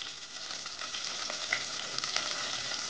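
Coconut oil heating in a pan for a Mangalore-style prawn dish, with a soft, steady sizzle and faint crackles and pops, heard close and fairly quiet with no talking.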